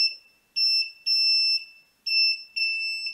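A small buzzer driven by an Arduino beeps in a short irregular pattern of shrill, steady tones, some clipped short and some held for about half a second, close and alone with no other sound.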